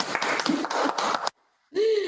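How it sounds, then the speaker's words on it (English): A small audience at an Eindhoven gathering claps in a brief burst of close, rapid hand claps lasting about a second, then falls quiet before a voice speaks. "Did we give applause already?"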